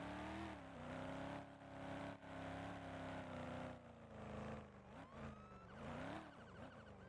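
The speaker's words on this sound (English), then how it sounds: "Wait for that car, then we'll go." A car engine in a Colorado State Roleplay video game drones and shifts pitch as the vehicle passes and accelerates nearby, rising and falling in several sweeps, fairly loud and with no talk over it.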